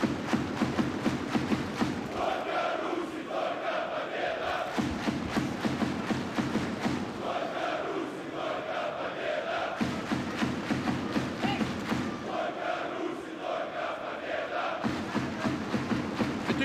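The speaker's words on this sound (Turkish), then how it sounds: "Tezahüratlar var. Sanki bir futbol maçında gibiyiz." Crowd at a professional boxing match between Dmitry Kudryashov and Vikapita Meroro chants and cheers steadily throughout, a dense, rhythmic roar with periodic swells, with no talk heard.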